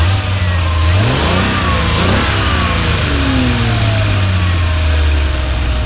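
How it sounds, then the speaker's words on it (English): 1982 Ferrari 400i V12 with CIS injection revving up from idle in a few rising and falling pulls, loud and close, with the engine note smooth and steady throughout and no voices. "Go ahead and rev it up a little bit."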